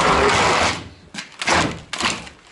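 An old, decaying garage door being pulled open, its broadband scraping and rattling in a long first burst followed by two shorter grinding pulls, close and fairly loud with no speech.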